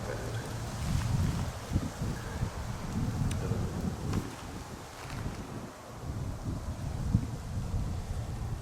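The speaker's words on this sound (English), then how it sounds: "Wind's picking up." Steady outdoor wind rushes and buffets against the microphone in a low, continuous roar with occasional gusts, with no voices over it.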